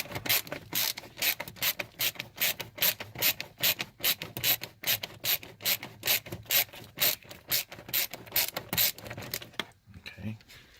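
Quick, evenly spaced ratchet clicks close up as 10 mm bolts are backed out on a 2005 Toyota 4Runner, a long steady run that stops near the end.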